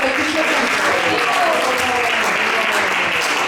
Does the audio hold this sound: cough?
no